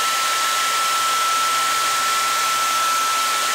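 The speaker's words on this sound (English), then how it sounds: "you're going to need a hairdryer and an X-Acto knife." Hair dryer blowing hot air over a car sticker to loosen its adhesive, a loud continuous airy whoosh with a faint steady motor whine, unbroken throughout and with no talking.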